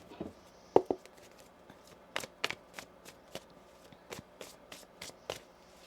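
Tarot cards being shuffled by hand, a run of crisp riffling bursts and soft slaps spaced irregularly over several seconds, close and fairly quiet with no talk.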